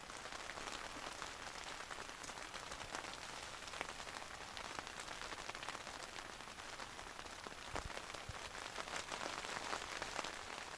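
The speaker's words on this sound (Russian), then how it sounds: "А дождь пошел." Steady autumn rain at a taiga beach campsite patters softly and evenly on a surface, a continuous hiss of drops without pauses or other sounds.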